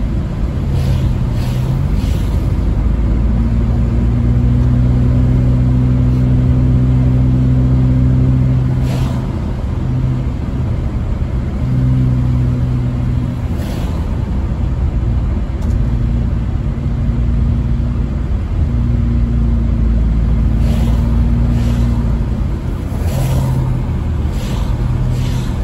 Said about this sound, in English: This would be your guys' drive in Big Bear right now.